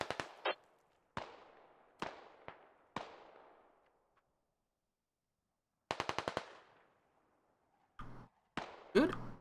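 Heavy explosive fire in a military shooter video game, with about a dozen sharp, loud blasts in spaced clusters, some rapid bursts, each trailing off into a short rumble, and gaps of quiet between them.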